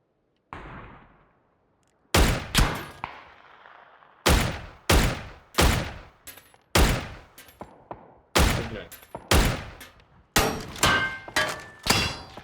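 Repeated loud gunshots in the video game PUBG, FAMAS rifle fire in bursts, sharp cracks with reverberant tails, spaced across the clip with brief gaps between volleys.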